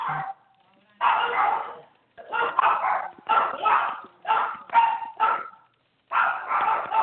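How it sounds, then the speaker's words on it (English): Dogs bark in repeated bursts with short pauses, fairly close and loud, several barks overlapping at times. "I hear the dogs barking."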